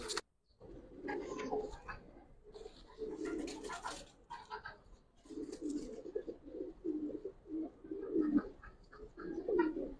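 Giribaz pigeons coo in repeated low throaty phrases, several bursts close by with short pauses between them, fairly soft and clear with no talk.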